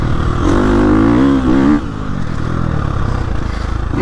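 A 2022 Gas Gas MC350 dirt bike engine runs close and loud, revving hard with a rising roar for the first second and a half before dropping to a lower, steady lugging rumble as the bike rolls on.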